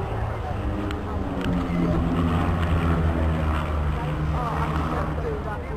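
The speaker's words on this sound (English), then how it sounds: "This is a home-built aircraft, so if you fancy one of these you can buy the kit." Home-built kit aircraft, fast and aerobatic, flies at the Sunderland Airshow 2012, its engine a continuous droning roar heard at a distance beneath steady commentary from someone speaking.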